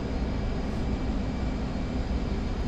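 A loud, unbroken jet roar from an F-15E taking off in the DCS World flight simulator, broadband thrust noise holding steady and close throughout.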